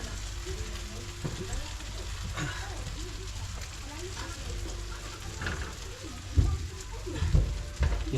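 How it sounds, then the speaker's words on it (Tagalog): Oil sizzling and splattering while frying, a steady crackling hiss with occasional louder pops and spits, a voice speaking faintly underneath. "Yung talsik ng mantika"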